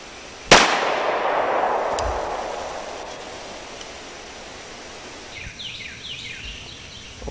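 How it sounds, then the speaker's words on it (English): A single sharp gunshot at a gun range, fired at a target stand, bursts loud and close then decays through a long echoing tail, followed by quieter outdoor ambience with faint chirps. "I believe I'll shoot it again."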